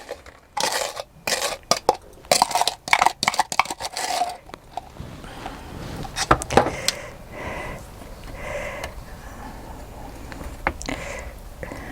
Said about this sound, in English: So I've got 2 ounces of margarine, 2 ounces of sugar in here, which I will cream together.